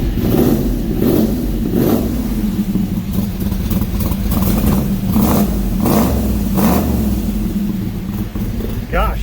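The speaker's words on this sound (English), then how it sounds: "She roars the life, almost like it's LS swapped." A 1985 Chevy C10 stepside truck with an LS engine swap roars up with a single rev, a loud, rumbling engine note that swells and settles, with people talking over it.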